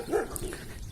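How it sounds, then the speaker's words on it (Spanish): A small dog gives a single short bark, moderately close and fairly quiet against a soft background hum, with no talking. "Hay un perrito ahí bonito, con cara de malito."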